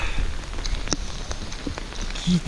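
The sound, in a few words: heavy rain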